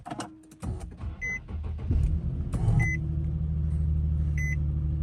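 A Nissan/Infiniti 3.7 L engine cranks and starts after a spark plug replacement, then settles into a steady low idle hum, with a few short electronic beeps sounding over it.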